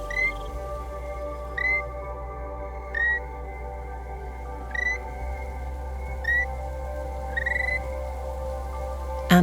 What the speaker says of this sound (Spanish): esta ranita es delatada por su singular canto que es similar al del grillo.